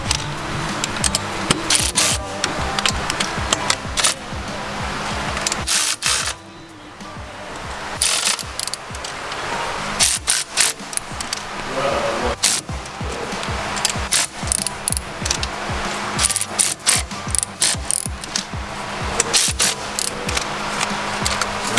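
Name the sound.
tightening manifold bolts on a 2017 Subaru WRX STI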